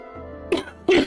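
A person gives two short, harsh coughs in quick succession, close and loud, over a faint background drone in the game Shroud of the Avatar.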